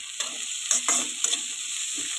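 Vegetables and tomato frying in a pan, a steady soft sizzle with a few spoon scrapes and stirring taps, close and quiet with no talking.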